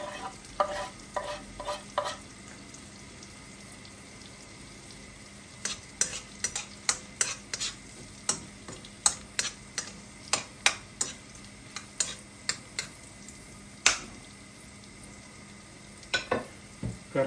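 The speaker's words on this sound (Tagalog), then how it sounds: "Caramelize lang natin yung onion." Garlic and onion sauté in butter in a pan, giving a soft steady sizzle beneath a rhythm of repeated sharp clicks and scrapes from stirring, close and moderately quiet.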